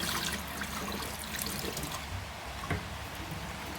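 Water sloshing and trickling as rice gets its final rinse in a pot, a soft continuous pour and swirl heard up close but at low volume.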